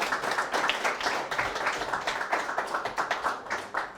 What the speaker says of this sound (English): do you want to clap the panels again?